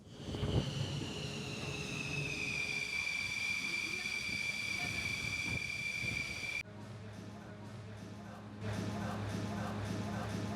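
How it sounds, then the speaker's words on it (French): A steady, loud jet engine roar with a high whine that drops in pitch, then shifts to a lower rumbling drone, as fighter jets land on the aircraft carrier Charles de Gaulle. "Les avions sont en train de rentrer, on les entend qu'ils sont en train d'apponter"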